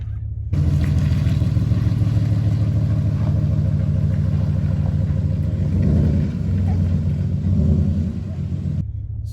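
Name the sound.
lifted Ford F-150 truck driving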